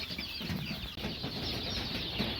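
A flock of chickens on a poultry farm troubled by illness makes a dense, continuous chorus of clucks and chatter, moderately distant and steady throughout.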